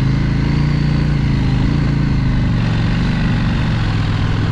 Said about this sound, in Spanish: Se va con moto ligera